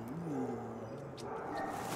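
A dog whines and whimpers in a drawn-out, wavering tone, close and moderately loud, with a few faint sharp yips and soft background noise and no speech over it.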